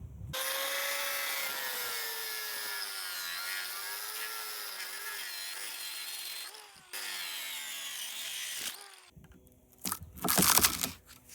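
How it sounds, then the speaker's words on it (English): An angle grinder makes a straight-down plunge cut through scrap plastic. A loud, steady high whine holds for about seven seconds, dips briefly, then resumes before a rougher, gritty burst at the end. "maybe if I just do a straight down plunge cut with the grinder, maybe that will do the trick"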